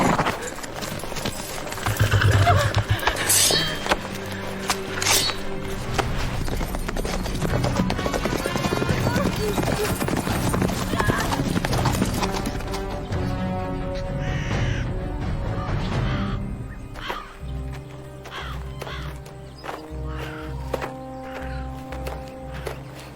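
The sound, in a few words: horse hooves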